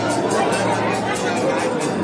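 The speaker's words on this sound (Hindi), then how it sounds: "बहुत भीड़ है" Dense crowd of pilgrims packed into the lanes of Baidyanath Dham temple in Deoghar, a steady close babble of many overlapping voices with no single speaker standing out.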